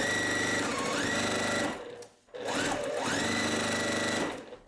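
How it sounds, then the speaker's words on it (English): A sewing machine stitches quilting fabric for a strawberry patch block, running in two steady, loud bursts with a brief pause between them and no talking. "Before I press, I'm going to come to the other side and I'm going to sew this."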